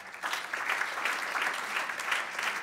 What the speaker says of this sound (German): Kleinen Applaus für dich vielleicht noch